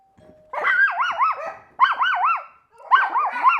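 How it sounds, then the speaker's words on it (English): An indoor dog reacts to the doorbell with three loud, close bursts of wavering, yelping barks and whines separated by short pauses. "dogs that don't like the doorbell"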